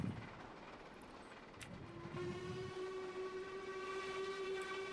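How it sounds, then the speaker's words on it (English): A train simulator locomotive sounds a long, steady whistle ahead of a level crossing, holding from about two seconds to the end over low rolling rail noise. "So whistle before the crossing"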